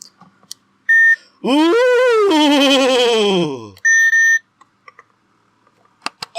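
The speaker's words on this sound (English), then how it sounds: "So, buzzers are working again." A studio buzzer on a podcast set gives two short, loud electronic beeps, one before and one after a long, drawn-out vocal 'ooh' from a person.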